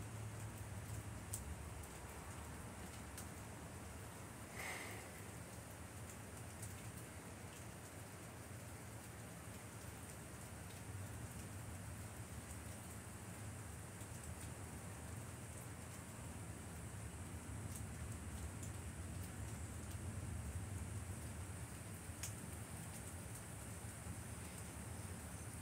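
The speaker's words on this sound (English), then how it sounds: "Right now it's just drizzling." Light rain drizzles steadily through the night, a soft continuous hiss with a faint low rumble underneath and no voices.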